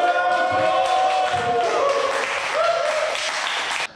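Studio audience applauding with steady, dense clapping that fills the clip evenly and stops abruptly near the end, over a musical backdrop with tonal lines.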